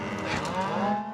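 Cattle low loudly and steadily while being herded by riders and herding dogs across hills, creeks and aspen groves on a ranch drive, a close, continuous mooing with no talk over it.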